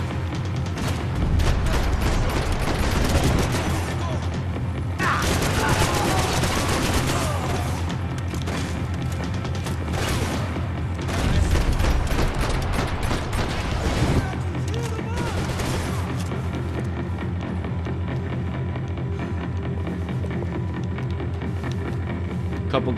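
Heavy gunfire and booming blasts in the shooter game Max Payne 3, firing in dense loud bursts throughout, with a few louder explosive surges, and a voice talks briefly over the battle.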